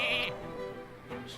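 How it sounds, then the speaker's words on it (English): Short sheep bleat from the Polymorph spell in Hearthstone, a quick nasal baa heard clearly and alone, followed by a faint second bleat. "So we could sheep Ysera"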